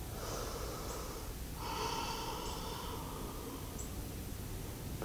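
During an Ashtanga seated forward fold, slow deep breaths are drawn in and pushed out through the nose, two or three long airy strokes close and quiet against a hiss.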